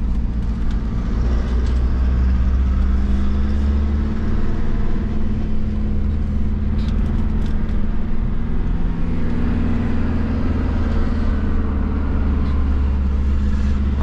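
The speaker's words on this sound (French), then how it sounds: "un turbo diesel, c'est méga puissant, c'est la meilleure bagnole pour la région où je suis" A turbo diesel car engine drones steadily from inside the cabin while climbing a steep hill, a low, constant rumble with little change in pitch throughout.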